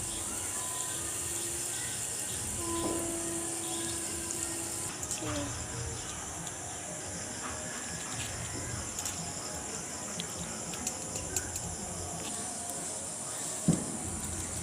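Boondi, small droplets of gram-flour batter, frying in hot oil for a sweet recipe, giving a steady soft sizzling hiss that runs continuously and evenly throughout, with no voice over it.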